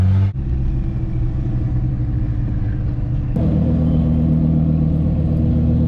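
An Audi R8 V10 fitted with a VF Engineering supercharger rumbles at a steady idle up close, then its note steps up abruptly into a louder, deeper sustained drone.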